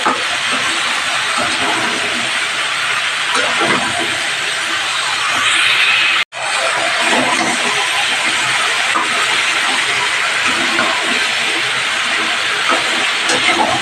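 Mixed vegetables being sautéed and stirred down in a pan for a vegetarian curry, giving a steady, loud hiss of steam and frying that runs throughout, broken by one brief gap partway through.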